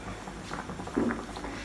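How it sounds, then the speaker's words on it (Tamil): Soft, steady bubbling of water boiling on high flame in a pot for rice flour roti, a low busy patter that swells slightly midway, heard close with no talking. "இப்போ வந்து தண்ணி கொதிக்குது இல்லையா"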